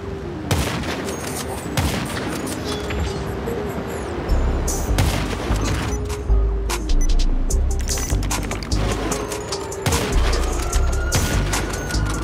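Loud sniper shots crack out repeatedly in GTA V Online, each report booming with a rolling echo, mixed with bursts of other gunfire and distant explosions on a city rooftop battlefield.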